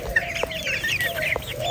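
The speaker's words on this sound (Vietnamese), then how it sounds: "Đây là bầy gà Silama của nhà mình nha." A flock of Serama chickens clucking close by, short repeated clucks and soft chattering calls in quick irregular bursts, loud and clear with no talk.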